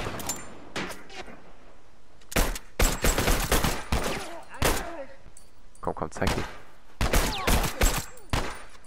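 Bursts of gunshots, including a suppressed M9 pistol, and sharp impacts in The Last of Us online multiplayer, scattered through the clip, some in quick clusters, with someone speaking briefly between them.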